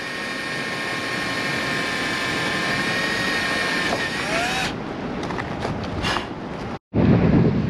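Strong outdoor wind roars steadily against the microphone beside an RV during an awning replacement, then cuts out briefly and gusts back loudly.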